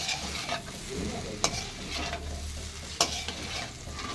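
Chicken with a few tomato pieces gently stirred in a pan, soft scraping with two sharper clinks of the utensil over a low steady sizzle.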